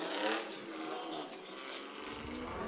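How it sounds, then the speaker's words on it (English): A drift car at Fuji International Speedway runs with its clutch apparently slipping, giving a distant, steady engine drone with raspy scraping texture and brief low rumbles near the end. "Sounds like the car is running."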